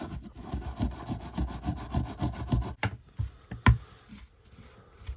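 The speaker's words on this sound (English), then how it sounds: "It's a metal scrubbing brush or an old knackered one." A metal scrubbing brush scrubbing a wet surface in quick, rhythmic back-and-forth rasping strokes, close and fairly loud, then slowing to a few separate scrapes.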